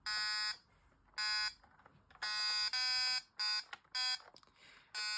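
A retro handheld electronic game on game 1, powered by a 9-volt and two AA batteries, gives loud, shrill buzzing beeps in short irregular bursts, some longer and some clipped, close up with quiet gaps between.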